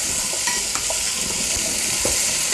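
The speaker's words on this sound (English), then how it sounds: "Saute for a couple of minutes the onions, and then you add all the vegetables, adding the potatoes." Onions, potatoes and mixed vegetables sauteing in a pan for sambar rice, with a steady close sizzle and occasional stirring clinks and scrapes throughout.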